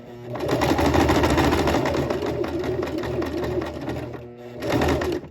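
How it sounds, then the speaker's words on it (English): A sewing machine runs steadily, stitching along a fabric edge, a close, fast whirring hum that pauses briefly before starting again. "I'm sewing just as close to the edge as I can"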